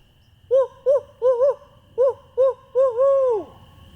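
A man imitates an owl hoot to locate turkeys, calling in a series of short hooted notes, then a longer drawn-out call that slides down at the end, clear and fairly close in a quiet outdoor setting.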